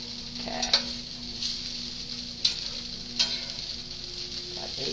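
Potato wedges and Lacinato kale being stirred in a frying pan over lowered heat, with a steady soft sizzle and a few sharp scraping clacks of the utensil against the pan, close by, no talking.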